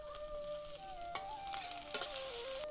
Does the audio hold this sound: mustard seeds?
yes